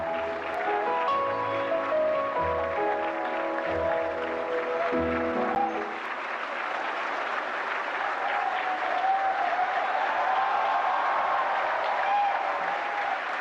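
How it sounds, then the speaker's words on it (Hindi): Sustained audience applause at the 71st National Film Awards ceremony as a young child artist comes up to receive her award, a dense, steady wash of clapping with music playing underneath at first, then fading out. "जोरदार तालियों से स्वागत करिए नन्ही कलाकार का।"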